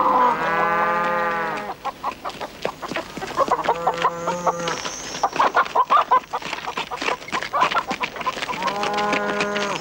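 Cattle mooing loudly several times, long drawn-out calls separated by clattering hooves and shuffling livestock noise close by.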